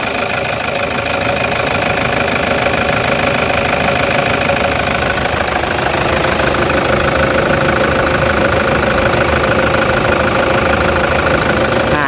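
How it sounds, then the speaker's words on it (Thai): A 2004 Toyota Hilux Vigo 3.0G diesel pickup engine idles steadily nearby, a continuous low rumble with a faint rhythmic knock and no voices. "เสียงเครื่องยนต์นิ่งๆเลยนะครับผม"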